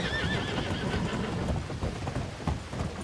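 A horse whinnies in a video game Western, its loud neigh opening the clip, then hooves clip-clop and shuffle close by against a rough outdoor background, with no talk.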